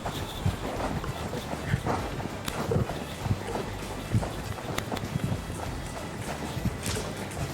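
A barefoot horse trots at a steady rhythm, its hoofbeats falling as repeated dull thuds close by over continuous outdoor noise and faint wind.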